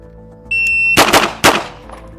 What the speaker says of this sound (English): Yeah, good shot, John.